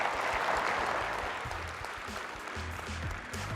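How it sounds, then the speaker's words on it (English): Steady applause from a conference audience after a research talk, a continuous wash of many hands clapping at moderate volume that holds throughout, with low room rumble underneath. "Round of applause, Ara."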